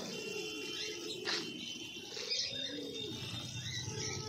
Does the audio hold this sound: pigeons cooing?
yes